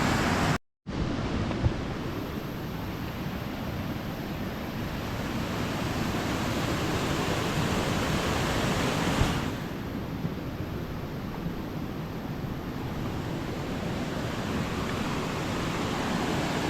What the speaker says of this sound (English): What a waste of a really nice waterfall.